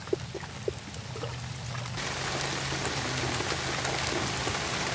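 Steady rain pours down in a village, a dense hiss of drops on surfaces that swells after a couple of seconds, with a low hum underneath.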